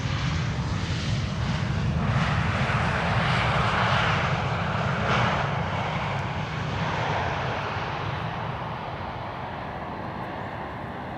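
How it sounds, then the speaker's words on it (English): Cathay Pacific Cargo plane arriving at Amsterdam Schiphol from Paris, a loud continuous jet engine roar with broad rushing noise that swells and then slowly fades as the aircraft passes, no voices. "Cathay Pacific Cargo Flight 2038 arriving from Paris."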